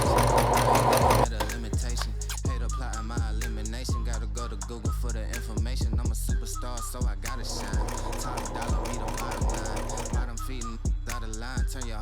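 A sewing machine runs a straight stitch and zigzag along a tote bag seam, a close, rapid train of needle thumps that starts after a short pause and keeps a steady mechanical rhythm.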